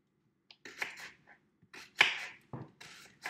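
A knife cuts through half a sweet onion on a cutting board, with a handful of close, quiet, irregular crunchy cuts separated by brief pauses.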